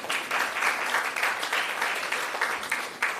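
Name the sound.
applause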